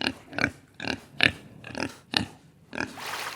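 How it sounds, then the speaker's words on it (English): A pig oinks and grunts six times in a steady, evenly spaced series, close and clear, followed by a softer noisy tail. "Pig."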